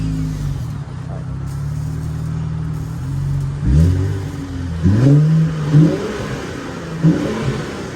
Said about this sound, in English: Give y'all some revs.